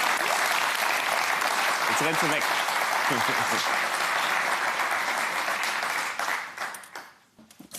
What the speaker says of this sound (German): Also einen Applaus nochmal dafür.